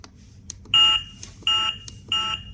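Three short electronic beeps from a K3Pro device while adjusting volume, high and piercing, evenly spaced, each followed by faint clicks, close and fairly loud with no talking.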